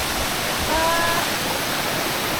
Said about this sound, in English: Lots of water coming down.